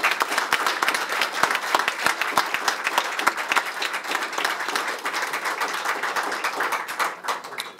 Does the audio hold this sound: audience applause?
yes